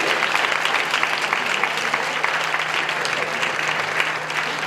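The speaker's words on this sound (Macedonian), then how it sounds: "Ве молам Еден аплауз за Колја." Steady, dense audience applause fills the room at an evening queer storytelling event during Skopje Pride Weekend 2018, even clapping from many hands with no break.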